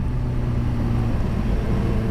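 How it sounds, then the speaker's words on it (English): Kawasaki Ninja H2R motorcycle engine droning steadily at close range, a continuous loud rumbling hum with no breaks and no speech. "I'm just riding my motorcycle."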